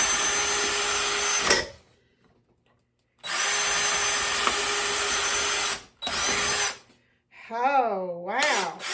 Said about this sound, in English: we're going to drill holes in our cups.